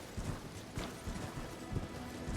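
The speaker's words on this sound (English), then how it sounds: "he charges at you on his horse" A horse gallops in Elden Ring, the video game, as a rider charges, with rapid rhythmic hoof thuds over a rushing, noisy background, moderately faint and steady.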